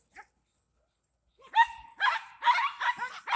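Several dogs bark in quick, loud bursts after a quiet start, outdoors in a Florida backyard fruit garden with mulberries, melons and pomegranates.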